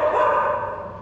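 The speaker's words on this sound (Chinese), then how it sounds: "有狗狗啊。" A dog at a café near the Taipei Music Center gives a single short, close bark or yip that tails off quickly.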